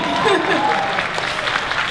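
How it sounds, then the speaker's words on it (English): Audience applause at the VidCon 2015 creators keynote forms a continuous wash of crowd clapping and cheering, loud and steady, with a voice talking over it. "you can go ahead and clap, baby"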